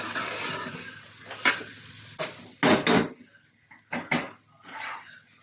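Kappa biryani with sausage being stirred and mixed in a pan, giving scraping, clattering spoon-on-metal sounds in irregular bursts with a soft sizzle underneath, close by and with no talking.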